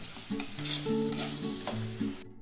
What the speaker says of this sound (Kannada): ಹಾಕಿ ಮತ್ತೆ ಚೆನ್ನಾಗಿ ಕಲಿಸ್ಕೊಳ್ಬೇಕು ಟೊಮೆಟೊ ಚೆನ್ನಾಗಿ ಬೇಯುವವರೆಗೆ ಮೆದುವಾಗುವವರೆಗೆ ಬೇಯಿಸ್ಕೊಳ್ಬೇಕು